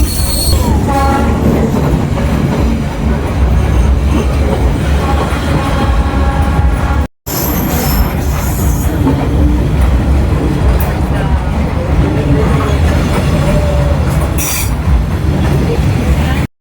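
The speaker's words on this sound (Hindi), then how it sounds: "और फाइनली लगभग आधे पौने घंटे के वेट के बाद ट्रेन सचमुच में आई" A train rolls slowly through the narrow residential Train Street in Hanoi, loud and close, with steady wheel rumble, clacking and squeal for the whole stretch, plus a horn and crowd noise. Brief break midway.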